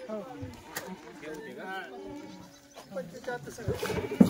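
Kathewadi goats bleat in short, wavering calls at a livestock sale, close by and repeated several times. People talk over and between the bleats.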